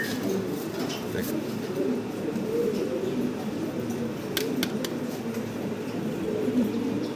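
Magpie Danish fancy pigeons cooing softly in a loft, low murmuring coos under someone talking, with a few sharp clicks later on.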